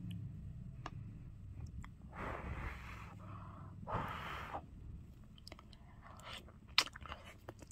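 Soup broth with egg stirred in is eaten quietly up close, with soft sips, chewing and small clicks of utensils against a low background hum.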